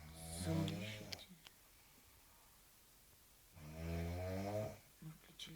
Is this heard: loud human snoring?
yes